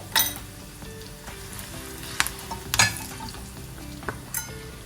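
Garlic, curry leaves and turmeric crackle in hot oil for a tadka, a steady low sizzle broken by a few sharp pops and spatters, close and alone with no talk.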